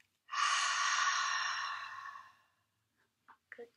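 A child breathing out slowly and steadily during a pinwheel breathing exercise, one long airy exhale of about two seconds close to the mic, followed by a few faint short sounds.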